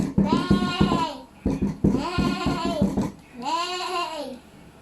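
A voice imitates a horse neighing, three long wavering whinny-like calls with short pauses between, close and clear, during a playful shadow-puppet game.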